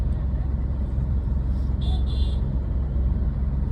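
Steady street traffic in Gurugram, a continuous low rumble of cars and other vehicles with a brief high-pitched tone or horn near the middle, plus faint voices in the background.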